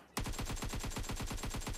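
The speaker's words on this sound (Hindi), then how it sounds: "यहां पे पूरी क्रेट के ऊपर गोलियां चला रहे" Automatic gunfire in PUBG Mobile aimed at a crate, a loud close burst of rapid evenly spaced shots that starts abruptly and keeps rattling without a break, no voices over it.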